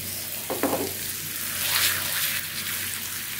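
Aloo paratha fries in cooking oil on a dosa tawa with a steady close sizzle and crackle throughout, a couple of brief clatters early on, and no talk.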